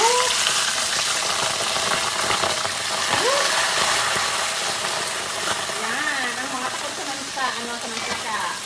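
Pompano fish frying in hot coconut oil, a loud, steady sizzle with constant crackling hiss that fades slightly near the end.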